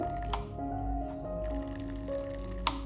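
Water running from a household tap after a motor problem, trickling and dripping softly with a few faint splashes and one sharper drop near the end.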